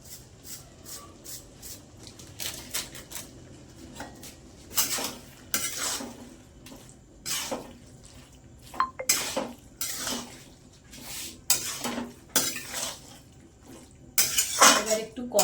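Bottle gourd curry with fish head is stirred in a pan, with repeated clanks and scrapes of a spoon against the metal over a low sizzle, and a voice talking now and then.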